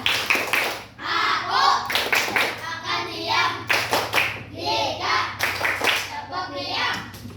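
A primary class in an Indonesian school performs the 'tepuk diam' clapping chant, rhythmic group hand claps mixed with children's chanting voices, lively and close, filling the room for several seconds.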